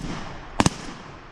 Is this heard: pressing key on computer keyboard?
no